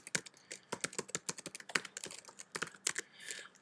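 Quick, uneven keystrokes on a computer keyboard as an email address is entered, crisp close clicks in short bursts with brief pauses and no talking.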